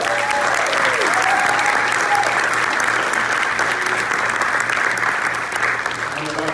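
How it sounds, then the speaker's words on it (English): Loud, sustained round of applause from an audience at a comedy presentation premiere, dense clapping filling the whole stretch and easing slightly near the end, with faint voices mixed in. "I just want to give a round of applause for that."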